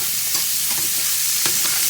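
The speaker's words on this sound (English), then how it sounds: "I'm going to add my shrimp to my pot" Seasoned shrimp cooking in a pot, a steady loud sizzle with a few stirring scrapes and clinks running throughout.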